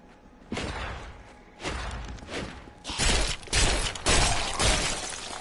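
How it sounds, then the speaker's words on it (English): Corpse explosion spell in Diablo III: a series of heavy shattering bursts and thuds, each louder than the last, loud and without talk. "Oh, corpse explosion."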